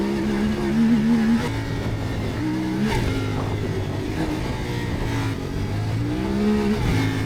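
Zontes CF450MT motorcycle engine revving as the throttle opens, close and loud, the pitch rising and falling in several swells over a steady idle, with no talking.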